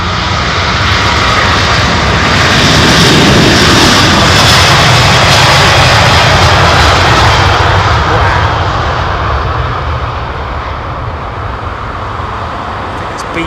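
Jet airliner engines rumble loudly at London Heathrow Airport, a powerful broad roar that builds, holds strong for several seconds, then gradually eases off as the aircraft moves away, with no voices over it.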